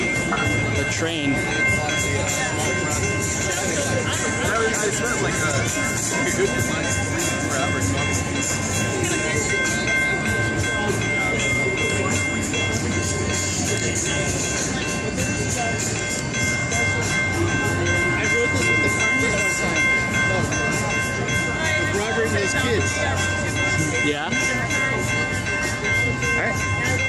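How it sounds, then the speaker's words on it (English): A train passes by at a crowded comic convention, a loud, dense, continuous rumble with steady tonal hum throughout, mixed with crowd chatter and voices. "The train."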